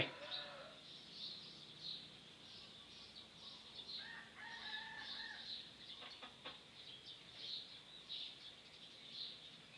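A rooster crows faintly in the distance on a rural property with mulberry and lime trees. Soft clucking and outdoor noise continue around it, and a person speaks briefly.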